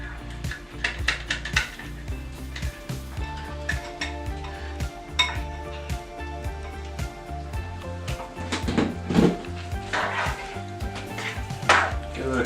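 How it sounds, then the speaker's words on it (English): A spoon stirs ground meat and baby portobello mushrooms into jarred Prego spaghetti sauce in a pot, with repeated clanks and scrapes of metal on cookware, close and busy, with no talk. "make sure you mix the meat and your portobello baby mushrooms in there"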